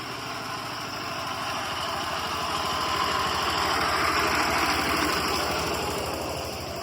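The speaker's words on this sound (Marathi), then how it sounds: "शेतीच्या नांगरणीसाठी ही मशीन शेतामध्ये घेऊन जात आहेत" A steady, rumbling engine of a ploughing machine runs close by without pause in a field in Sawantwadi, Konkan, its pitch level and its loudness swelling slightly in the middle before easing off.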